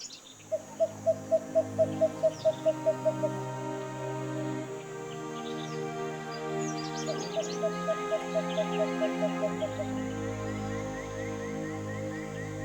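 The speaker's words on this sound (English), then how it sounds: "It's the hour of the bird symphony." Birds sing at dawn in the dry forest of Ankarana National Park, Madagascar, with repeated clear whistled phrases over a layered chorus of chirps and insect hum, moderately close and continuous.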